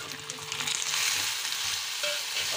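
Tomatoes have just gone into a pan of frying onions being stirred for dhaba-style dum aloo, making a bright, steady sizzle with soft scraping stir strokes, close and moderately loud, no voices.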